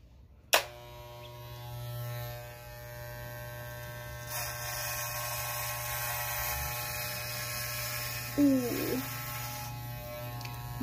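Electric hair clippers with a 1/8 inch guard shave a head, a close steady buzzing hum that runs throughout, broken by a sharp click at the start and brief louder passes as they move over the scalp.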